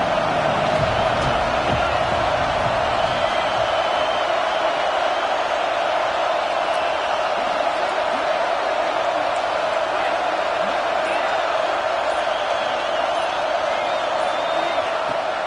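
A college football stadium crowd at a Vanderbilt versus NC State game keeps up a steady, broad roar of cheering throughout, with an even wash of noise and no distinct breaks.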